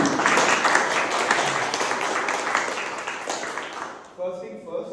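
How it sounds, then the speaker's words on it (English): Dense, sustained clapping from a crowd that tapers off near the end as a voice begins speaking. "Can we have a huge round of applause for Muskan?"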